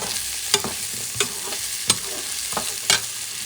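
Peeled, cut carrots stirred in a pan with wild boar medallions, a continuous close sizzle punctuated by about five sharp scraping strokes of the utensil at irregular intervals, without speech.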